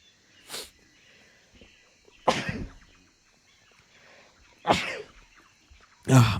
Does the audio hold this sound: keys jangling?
no